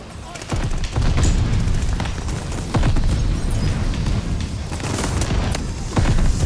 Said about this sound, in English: Okay, shotgun battle.